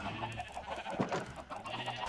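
Sheep bleating in a sheep pen in the Minecraft video game, a steady bleat over continuous in-game background sound, with no speech.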